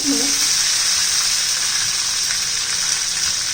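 Cumin seeds, fennel seeds and chopped curry leaves sizzle in hot oil for a carrot chutney tempering, a steady bright hiss with a brief spatter of clicks and pops at the start.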